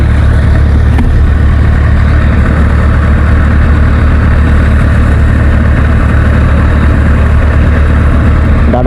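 A motorcycle engine idles loudly and steadily nearby, a deep continuous rumble without change for the whole stretch, with no speech over it.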